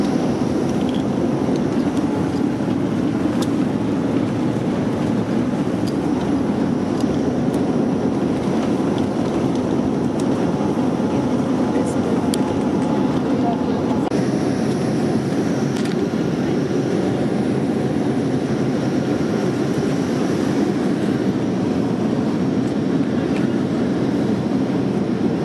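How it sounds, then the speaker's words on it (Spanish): Inside an airliner cabin just before takeoff, a steady dense engine and air roar fills the space, unbroken and even throughout with no talk. "Estamos a punto de despegar."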